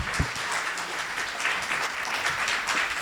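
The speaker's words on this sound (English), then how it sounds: "I think the panel deserves a loud round of applause." Audience applause for a conference panel at an education conclave, a steady, dense round of clapping that holds at an even level for the whole stretch, with no voices over it.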